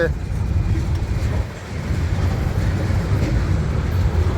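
A Union Pacific freight manifest train pulls away near Colton, California, giving a loud, continuous low rumble of diesel engines and rolling cars that dips briefly once and then carries on steadily.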